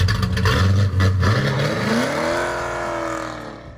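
1966 Pontiac GTO with a 389 XS Ram Air V8 revving loudly, then a rising engine pitch as it accelerates and fades slightly away.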